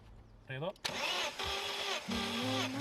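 An old Saab car engine cranks during a compression test in repeated, uneven bursts after a brief voice, the starter whirring loudly nearby without catching.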